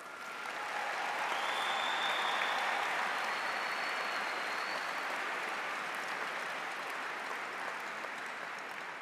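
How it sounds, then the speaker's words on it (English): Steady applause from a graduation audience at a high school ceremony, sustained and even for about nine seconds with no talk over it. "So let's give ourselves a big round of applause."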